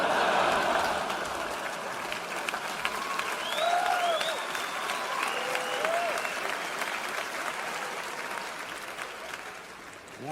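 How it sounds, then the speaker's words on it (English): A stand-up comedy crowd claps loudly after a joke, a thick wave of applause that is strongest at the start and gradually eases. Scattered whoops and whistles rise above the clapping. "Yeah, clap it up."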